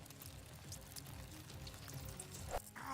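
Film sound effect of an insect queen hissing, a continuous broad, breathy hiss with shifting texture throughout, rising to a sharp burst near the end.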